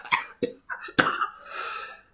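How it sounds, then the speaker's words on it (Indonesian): A person coughs in a few sharp bursts, three quick explosive hacks followed by a strained, drawn-out breathy wheeze, close and alone. "Sampai batuk gue."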